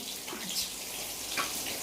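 Water runs steadily from a tap while a child is bathed at home, a continuous close splashing wash with small surges and no talk.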